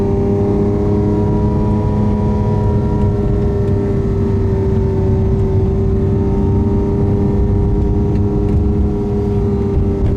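A steady, loud engine drone with a slowly rising pitch holds for about ten seconds, as a Lamborghini Aventador S and a tuned Porsche 996 Turbo accelerate alongside each other.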